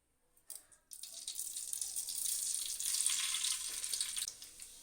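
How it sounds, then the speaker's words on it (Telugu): Fenugreek seeds hit hot oil in a pan while making Telugu crab curry, bursting into a loud, bright hiss that rises after a few faint taps and sizzles steadily before easing off. "నూనె వేడెక్కినాక ఒక చెంచడు మెంతులు"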